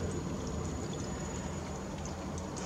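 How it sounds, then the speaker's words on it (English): Water churns steadily inside the CO2 reactor of an Aqua Medic 1000 aquarium setup, a continuous close gurgling wash with faint bubbly ticks, no speech over it. "See, the bubbles are coming in on the bottom here."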